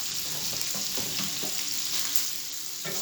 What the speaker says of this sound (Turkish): Mutlaka ara sıra da sosisleri karıştırın.